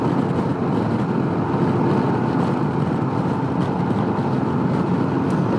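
A Can-Am Ryker and a Ducati Monster accelerating in top gear on a mid-range roll-on, heard as a loud, steady engine and wind roar with no pauses or talk.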